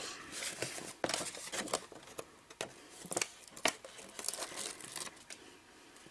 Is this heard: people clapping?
no